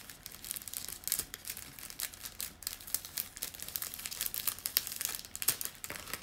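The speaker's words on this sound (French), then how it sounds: "attendez que j'enlève le scotch" Crinkly, tearing crackles come in uneven bursts, close and fairly quiet, like tape being pulled away from a surface.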